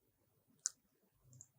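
A computer mouse gives a single faint, sharp click in an otherwise quiet room, followed by low, soft handling noise.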